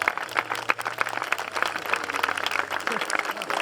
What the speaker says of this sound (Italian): Un applauso ad Aurora